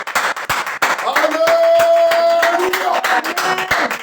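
Church congregation clapping in rhythm to acclaim the Lord during a praise and worship service, steady loud claps over a sustained singing or musical tone and crowd voices.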